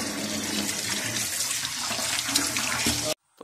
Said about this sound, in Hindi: तो ये गोश्त धो लिया सारा अच्छी तरह